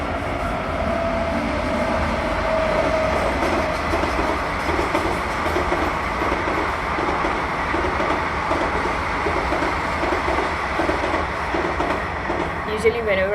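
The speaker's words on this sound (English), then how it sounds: "Every time I make a video, I don't know, coincidence that a train will pass." A train rolls past nearby, a continuous loud rumble and rhythmic clatter of wagons on the rails that stays steady for the whole stretch, with a faint squeal near the end.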